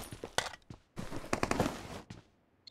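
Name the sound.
gunfire in video game PUBG Mobile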